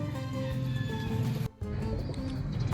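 Pigeons cooing close by in soft, continuous throaty calls that overlap one another, with a brief pause midway.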